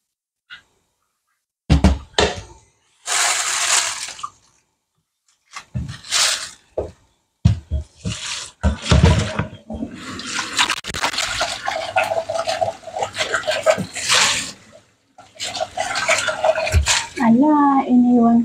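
Black chicken being rinsed under a running kitchen tap, with bursts of splashing water, knocks of the meat against a metal basin, and clattering pans, loud and close, interrupted by brief pauses.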